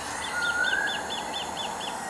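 A migrating sacred kingfisher passing over central Brisbane at night gives a steady run of about eight sharp, high chip calls, evenly spaced and fairly faint against a constant background hiss.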